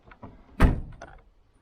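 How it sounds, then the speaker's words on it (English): A Toyota Matrix rear hatch door swings shut with one solid thud, preceded by faint handling clicks and followed by a brief latch rattle, close by in a quiet setting. "Let's make sure the door closes."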